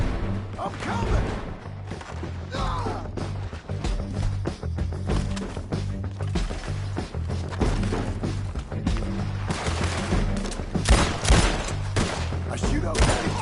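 Gunfight in Red Dead Redemption 2, a continuous stretch of sharp shots and cracks over a low game soundtrack, irregular and busy throughout, with voices mixed in.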